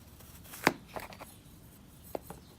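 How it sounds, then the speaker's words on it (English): Blade slicing through soft rock wool starter cubes into squares for a hydroponic vertical garden, a few faint, sparse cuts with one sharper crunch, close and quiet with no talking. "And now I'm gonna cut them this way."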